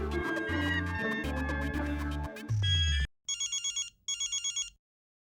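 A phone at home rings with an electronic ringtone, two short bursts of rapid warbling tones, following a few seconds of loud music.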